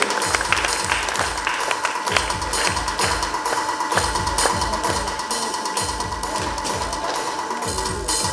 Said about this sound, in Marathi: जोरदार टाळ्या झाल्या पाहिजेत ओमकार गिरमे यांच्यासाठी